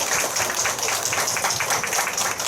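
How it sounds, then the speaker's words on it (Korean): Applause from an audience at a Korean women's committee workshop, a dense, steady patter of many hands clapping that fills the whole stretch without letup. "한번 박수 한번 주시죠."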